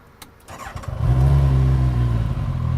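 A Campagna T-Rex 14R three-wheeler's engine cranks and catches after a few mechanical clicks, then settles into a loud, steady, deep idle close by.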